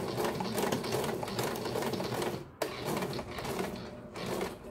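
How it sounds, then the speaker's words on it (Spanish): A sewing machine stitches an embroidered tulle corset in a steady, dense mechanical whir that runs close and fairly loud, broken by one short pause midway before the stitching resumes, with no voices over it. "Y hasta aquí voy a coserle para después irme para arriba."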